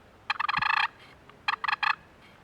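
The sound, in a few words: box call purr imitating a content turkey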